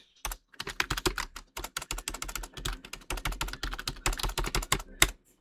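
Rapid, uneven keystrokes clatter on a computer keyboard in quick bursts with brief pauses, close up and clear, no talking.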